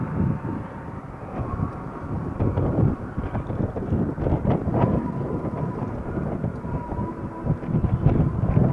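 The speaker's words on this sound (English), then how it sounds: "Now the wind is picking up." Wind blowing outdoors beside a river lagoon at Jensen Beach, Florida, a continuous rough low rumble buffeting the microphone with gusts rising and falling throughout.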